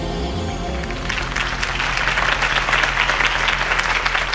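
A crowd applauds a campaign speech in the Batman: The Telltale Series video game, a steady, dense wash of clapping that swells slightly and continues alone without talk.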